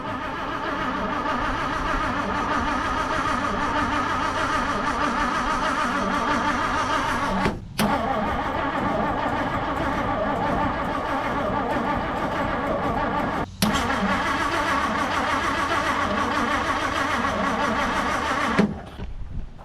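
A 1959 Plymouth Savoy with a suspected ignition fault cranks steadily and fails to catch, the starter grinding on continuously for the whole span, broken by two brief pauses, then cutting out near the end.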